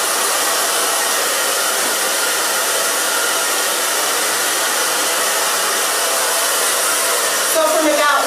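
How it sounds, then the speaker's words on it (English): A handheld hair blow dryer runs continuously and close by as it styles hair being cut into a short pixie, a steady loud broadband whoosh with a brief shift in tone near the end. "blow dryer"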